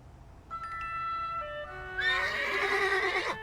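A cartoon horse gives a long, clear whinny, rising then breaking into a wavering neigh over soft background, close and fairly loud.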